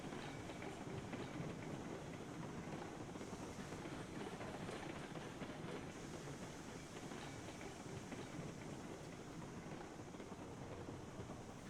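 Steady rumble and clatter of a train rolling along rails in the railroad game Railroads Online, continuous and fairly loud throughout with no breaks.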